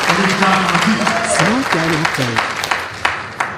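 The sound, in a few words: audience applause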